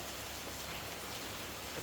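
Steady rain falling in Jaffna, Sri Lanka, a dense, even hiss of drops on surfaces that holds at constant loudness throughout, with no voices.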